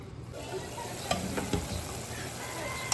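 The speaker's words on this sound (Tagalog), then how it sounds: "Kulo na haluin natin." Leftovers boiling with vinegar bubble and sizzle in a pot as a spoon stirs through them, giving a few distinct scrapes and knocks over the steady close simmer.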